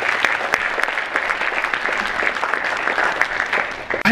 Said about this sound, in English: Let's give a big round of applause for yourself.